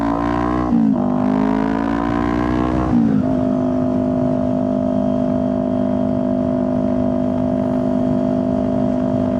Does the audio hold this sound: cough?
no